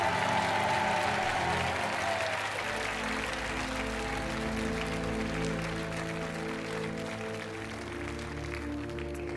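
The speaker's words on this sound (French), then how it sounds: "On vous laisse repartir sous les applaudissements." A studio audience applauds steadily over an upbeat musical jingle on a French TV game show, the clapping staying fairly even before easing slightly toward the end.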